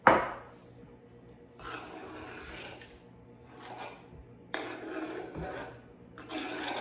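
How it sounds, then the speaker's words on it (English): Roasted peppers for matbucha slide into a pan with a soft wet thud, followed by intermittent scraping and stirring rasps against the pan, fairly close and moderately quiet. "I'm going to add my roasted peppers"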